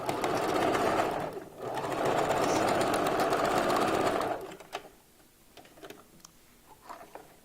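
A sewing machine stitching a wig runs in a steady, loud whirring burst for about four seconds with a brief dip, then stops, leaving faint clicks and small handling sounds.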